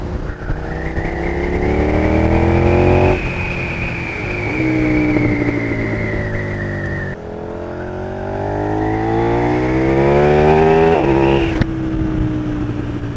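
A KTM 1390 Super Duke R Evo motorcycle accelerates hard through the gears, its engine note climbing steadily, briefly dropping at each upshift, then rising again. The exhaust stays loud and close, with no talk over it.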